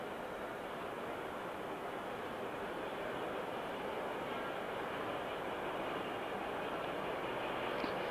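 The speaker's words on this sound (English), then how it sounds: "Train number 3 on the elevated loop passing by to the left, the Pennsylvania mogul pulling the Pennsylvania passenger train." An LGB garden-scale model train, a Pennsylvania mogul pulling a passenger train around an elevated loop of an automatically controlled layout, gives a steady, unbroken rolling rumble at low volume, with no talking.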